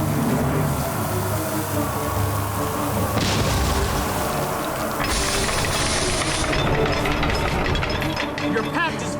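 Bombs explode in the Guild Wars 2 video game, with two heavy broadband bursts around the middle of the clip. Dense game sound and mechanical clatter run continuously underneath.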